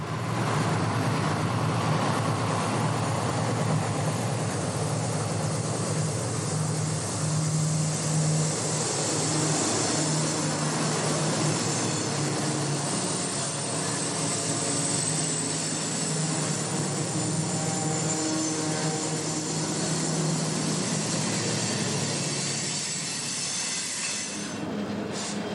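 A train hauled by GE C30-7 diesel locomotives rumbles past at steady loud volume, engines droning under a continuous wash of rolling wheels and rail noise that fades slightly at the very end.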